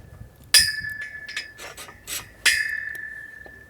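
Fence rail connectors on a 440 fence are tightened with a tool, giving sharp metallic clicks and ratcheting rasps in a few short bursts, close and crisp, with brief ringing after two louder strikes and no talk.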